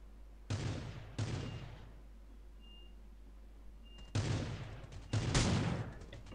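Bursts of gunfire ring out in the battle royale video game Rules of Survival: two short volleys early on, then two longer, louder rapid bursts after a quiet gap, with faint electronic beeps in between and no speech.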